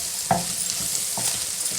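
Chicken pasta with pepper powder fries in a hot pan, a steady close sizzle with a couple of soft scrapes as it is stirred.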